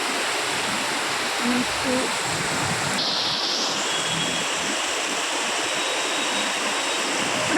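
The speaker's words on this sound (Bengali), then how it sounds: "ওটা ফ্লাইওভারের জমা জলটা নিচে পড়ছে" Rainwater collected on a flyover pours down onto the road below in a continuous heavy rushing roar, like a waterfall, steady for the whole stretch, with one brief spoken word.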